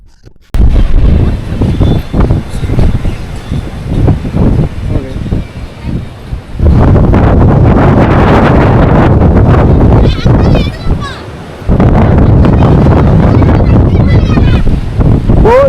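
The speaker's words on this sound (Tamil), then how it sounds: "மேலே போனால் காற்று வந்து அவ்வளோ ஃபோர்ஸ் அடிக்குது" Strong wind buffets the microphone on a hilltop trek up Kondarangi Hills toward a temple, loud, gusty roaring that surges and drops out briefly, with someone talking over it in parts.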